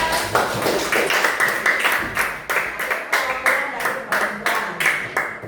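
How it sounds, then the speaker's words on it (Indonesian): A classroom of students claps in a rhythmic pattern, sharp regular bursts of hands repeating steadily at close range, with faint voices underneath. "Oke, tepuk tangan."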